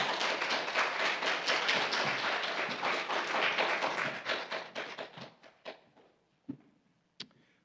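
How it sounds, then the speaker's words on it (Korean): A church congregation at a Korean Sunday service in Clemson claps to welcome the pastor to the pulpit. The applause starts as a full, steady patter, then thins into scattered claps and a few final knocks before fading out. "나오실 때 박수로 환영하겠습니다"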